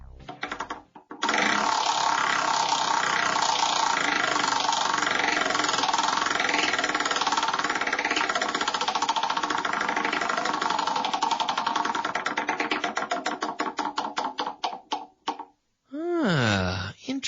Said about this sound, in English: Let's get things started by spinning the verb wheel.